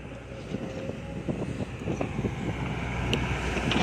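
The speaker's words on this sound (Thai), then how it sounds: "ลมแรงมากครับอากาศยังเย็นอยู่เลย" Strong, steady wind gusting outdoors on a cold afternoon, a continuous broadband roar buffeting the microphone with occasional sharper rattles.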